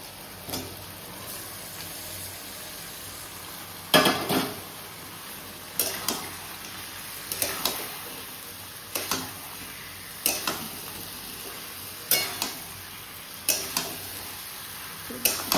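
Marinated chicken fries in a pan, with a steady sizzle running underneath a dozen or so louder scraping stirs that come at roughly regular intervals, close and fairly loud, with no talking.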